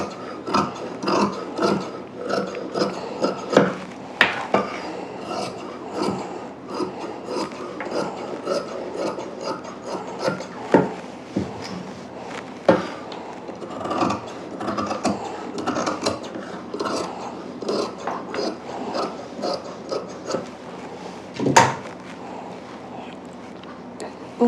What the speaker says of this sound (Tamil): இது நான் இப்போ அப்படியே கட் பண்ணி எடுத்துக்கிறேன்